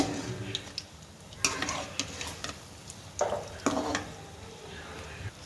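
Bonda frying in oil and being flipped, a soft steady sizzle broken by several light utensil taps and clinks against the pan.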